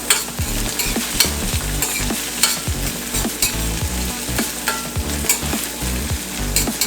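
Chopped onion and thyme frying in a pan for a Jamaican ackee patty filling, a loud close sizzle broken by rhythmic spoon scrapes and stirring knocks, with no talking.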